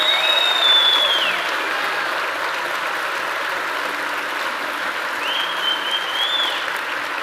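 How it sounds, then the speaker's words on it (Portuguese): A church congregation claps together in sustained applause, a dense steady roar of many hands filling a large room, with a high-pitched tone briefly sounding over it. "Vamos abençoar Jesus com um aplauso"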